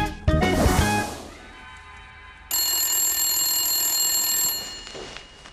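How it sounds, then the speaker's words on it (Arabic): A telephone rings in a Moroccan TV series scene, with a burst of ringing near the start followed by a loud, steady electronic ring tone that holds for a couple of seconds before cutting off, no speech. "التليفون الحمر هذا اللي كيصوني"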